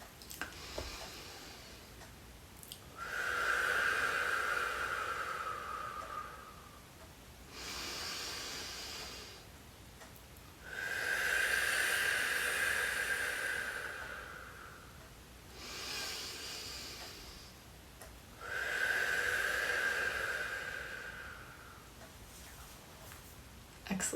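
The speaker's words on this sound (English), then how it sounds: "So we'll do one last set of breathing." Slow breathing exercise breaths during a facial revitalization routine, three long, loud breathy exhales with quieter inhales between, close to the microphone and alone.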